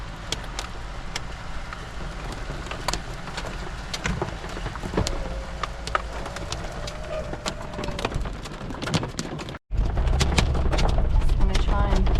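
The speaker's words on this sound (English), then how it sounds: "We have hail. We have hail." Hail pelts a caravan during a storm in Gympie, a dense, steady rattle of sharp ticks and taps that stays loud and close throughout, with a brief dropout near the end.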